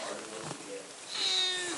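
A cat meows faintly indoors, a short drawn-out call over a quiet room background.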